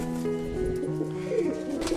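Chila pigeons, a breeding pair, giving soft repeated cooing calls close to the microphone in a quiet setting.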